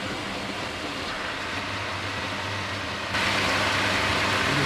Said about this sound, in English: Hoover on this time.